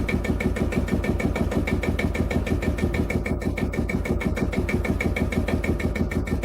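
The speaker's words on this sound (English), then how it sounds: "The Field Marshal engine is valued today for its durability, simplicity, and distinctive exhaust sound." Vintage Field Marshal single-cylinder engine, a 6 to 8 horsepower unit with large flywheels, running steadily at very low speed, its exhaust beating in an even, rapid thumping rhythm, loud and close with no voices.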